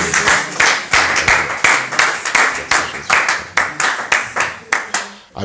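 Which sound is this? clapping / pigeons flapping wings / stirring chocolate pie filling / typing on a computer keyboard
clapping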